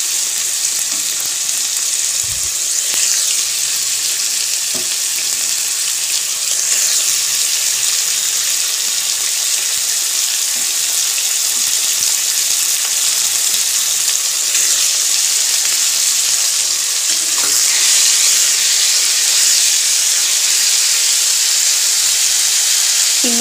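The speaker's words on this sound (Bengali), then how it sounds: "কিছুক্ষণ ধরে চিংড়ি মাছগুলোকেও ভেজে নিয়েছি ভালোভাবে" Prawns frying in a pan with a loud, continuous sizzle and steamy hiss, broken now and then by soft stirring scrapes, close up with no talk.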